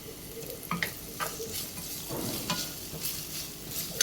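Sliced vegetables with salt sauté in a pan over high flame, a soft, steady sizzle broken by scraping stirs. No voices are heard.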